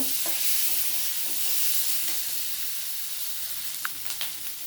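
Ground paste of ginger, black pepper, cumin and a little coriander stir-fried in a pan, a continuous close sizzle with soft scraping stirs and a few sharp clicks of a spatula near the end.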